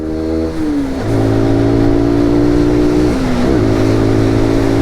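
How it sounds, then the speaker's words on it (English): SYM NH-X 125 scooter engine revving hard in a low gear after two quick downshifts, a loud, close, steady drone whose pitch dips briefly twice as gears change, with no talk over it. "Downshift, another downshift. Let's go, punch it."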